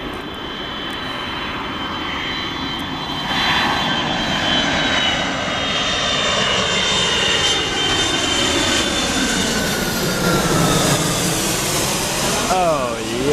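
Airliner landing at Atlanta Hartsfield airport, a loud rising and swelling engine roar that builds and sweeps in pitch as the plane passes, with a voice talking over it.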